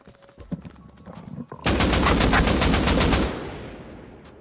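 Automatic rifle fire in the video game Rust Console: a rapid burst of around a dozen loud close shots lasting well over a second, ringing out into an echoing tail after a few quieter in-game sounds.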